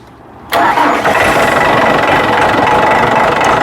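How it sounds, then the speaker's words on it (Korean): A construction machine's engine cranks and fires after a brief quiet start, then settles into a loud, rough, steady running rumble close by. "일단 시동을 걸어 보겠습니다"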